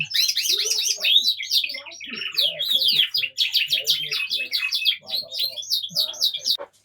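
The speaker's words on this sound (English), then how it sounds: "But the wire cages here, I've got 2 cock birds that I brought in." Several border canary cock birds sing from wire breeding cages indoors, a dense run of bright warbling trills and chirps going on continuously, with low murmured speech faintly underneath.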